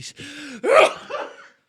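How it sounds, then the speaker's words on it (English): A sharp gasping intake of breath builds into one loud, explosive sneeze, followed by a brief trailing breathy sound. "That was a violent fucking sneeze."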